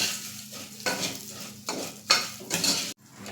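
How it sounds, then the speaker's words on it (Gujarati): Broken wheat roasting in ghee for fada lapsi, stirred with a metal spoon: a steady soft sizzle under repeated scraping strokes against the pan, close and moderately loud, with a brief pause near the end. "ઘઉંના ફાડા છે તેને આપણે આ રીતે ઘીમાં છે તે બરાબર શેકી લઈશું"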